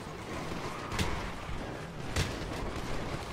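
Gunfire in the GTA V video game: two sharp shots about a second apart stand out over a dense, continuous rumble of in-game battle noise.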